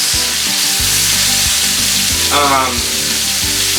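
Venison steak sears loudly in a hot pan, a steady close sizzle and crackle running the whole time, with a brief rise in spitting midway, and no voices.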